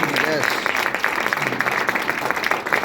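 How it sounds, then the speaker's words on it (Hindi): An audience in a business seminar hall claps loudly, a dense, continuous patter of applause with voices mixed in among the crowd. "एक बार जोरदार तालियां"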